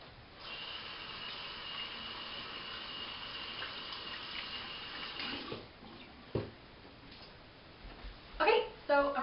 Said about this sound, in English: So hold on, I'm going to rinse.